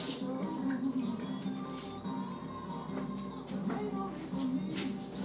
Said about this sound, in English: gotta wash the chicken grease off my hands